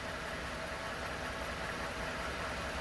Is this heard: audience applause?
no